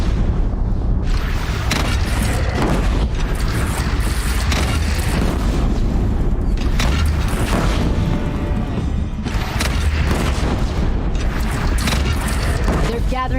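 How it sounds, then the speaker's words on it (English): Cannon fire and explosions in the Horizon Zero Dawn video game, a dense continuous rumble of booms and mechanical clatter with repeated heavy blasts, loud and close, with game dialogue and music mixed in. "Yeah, but it's a really effective cannon."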